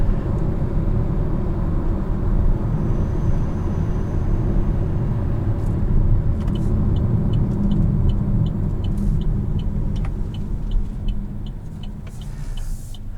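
A 2021 Chevrolet Trailblazer RS driving on a back road, steady loud engine and road rumble heard from inside the cabin, with faint ticking near the end.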